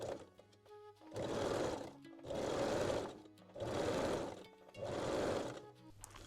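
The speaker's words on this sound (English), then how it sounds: "And sew along the bra bottom edge." A sewing machine stitches picot elastic along the bottom edge of a lace bralette in four steady, close bursts of motor whir, each lasting about a second, separated by brief pauses.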